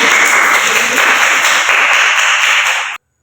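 A classroom of young children claps together for a classmate, a dense, loud burst of quick overlapping hand claps that holds steady for about three seconds and then stops abruptly.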